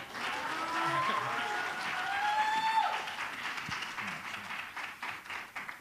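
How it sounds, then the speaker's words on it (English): Crowd at an awards ceremony applauds in a wash of steady clapping, moderately loud and sustained throughout, with some faint voices and a rising whistle-like tone mixed in. "Give him a round of applause, y'all."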